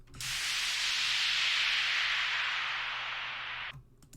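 A washy white-noise downlifter sweep with pitch automation and panning swells in and gradually descends and fades, travelling between left and right, then cuts off sharply near the end, with no voices.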